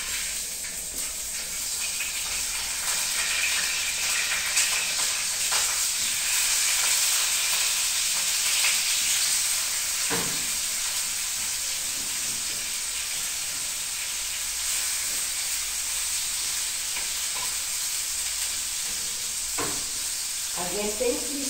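Food reheating in a pan on a morning stove, a steady close sizzle and hiss running throughout with occasional stirring scrapes and clinks.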